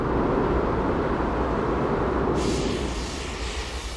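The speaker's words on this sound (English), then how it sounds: "Cracks in the crater walls, known as fumaroles, blow hot gas like a jet engine" Volcanic fumaroles on White Island blow hot gas from cracks in the crater walls, a loud, steady roaring hiss like a jet engine that continues throughout and eases slightly toward the end.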